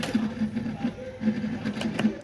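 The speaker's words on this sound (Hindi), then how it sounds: "ये चल रही मोटर, ये मोटर चल गई है।" A newly fitted air cooler motor running, a steady rhythmic mechanical whir with regular low pulsing, close and fairly loud, with faint talk nearby.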